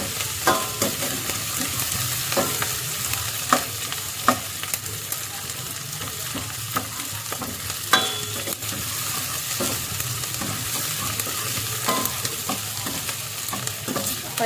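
Potatoes and peas roast in a pan over a low-to-high gas flame, a continuous near sizzle punctuated by regular scraping clicks of a spoon stirring, with no talk.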